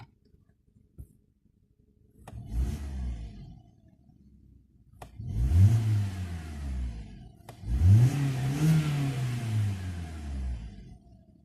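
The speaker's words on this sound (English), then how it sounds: "Pretty good sounding 4-cylinder engine." A 2004 Volkswagen Golf four-cylinder engine idles quietly, then revs three times, each rev swelling and falling back, the later ones louder and longer, heard close from inside the car.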